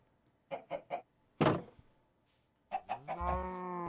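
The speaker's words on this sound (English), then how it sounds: "I hear cow and chicken." Minecraft chickens clucking in a video game, three short clucks followed by a burst of noise, then more clucks with a drawn-out tonal call, set against near silence.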